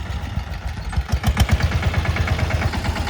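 A farm tractor's engine runs close by in the fields, a throbbing low chug with regular pulses, steady and fairly loud on its own.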